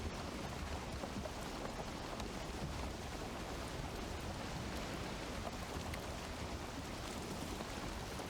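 Steady rain falling in the video game Valheim, a dense, even hiss of drops continuing unbroken and fairly quiet, with no voices.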